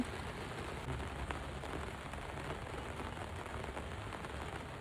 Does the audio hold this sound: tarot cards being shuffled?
no